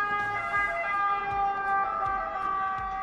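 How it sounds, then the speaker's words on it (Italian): Ambulance sirens wail in steady, sustained tones on a street leading to a hospital in Modena, loud and continuous with a constant hum of road traffic beneath. "sirene, abito vicino all'ospedale"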